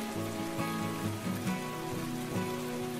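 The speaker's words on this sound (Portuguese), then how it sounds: "Aí escutamos o barulho da chuva." Rain falls steadily in the video game Reckless Love, a continuous pattering hiss mixed with soft, low musical tones underneath, with no talking.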